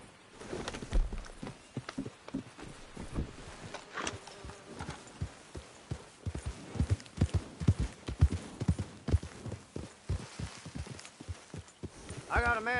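Several horses ride at a trot in Red Dead Redemption 2, hoofbeats thudding in an uneven, close rhythm throughout, with a voice speaking briefly over them.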